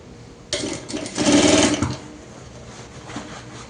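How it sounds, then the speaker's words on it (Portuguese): A sewing machine stitches a seam around a kitchen apron piece, a steady mechanical whir that swells loudly for about a second before easing back into a quieter hum. "Vamos passar uma costura em toda a volta"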